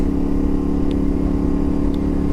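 A 2025 Yamaha Ténéré 700 motorcycle with upgraded front and rear springs hums along at a steady mid-pitched drone while being ridden, the engine holding an even, continuous tone close to the rider with faint wind rush.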